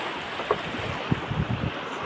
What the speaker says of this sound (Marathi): तर मित्रांनो पाण्याचा आवाज बघा कसा येतो.